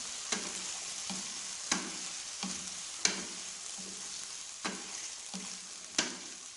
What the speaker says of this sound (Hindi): अभी इसको अच्छे तरीके से फ्राई करना है हमने।